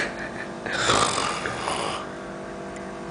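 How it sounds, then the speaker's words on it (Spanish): A person snores with one long, close, rasping inhalation that swells and fades, heard alone over quiet room noise. "Después ronca."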